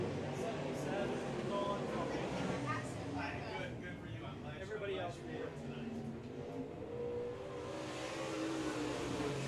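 A race car runs qualifying laps on a high-banked quarter-mile track, its engine a distant roar rising and fading across the lap, with a track announcer talking over it.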